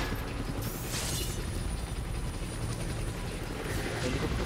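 Helicopter in the video game Marvel's Wolverine, a steady loud rotor drone with a mechanical rattle that holds for the whole stretch, with no talk over it.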